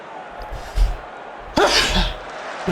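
A single sharp sneeze bursts out mid-recording during a football management game session, loud and close, preceded by a brief intake of breath and quieter mouth noise.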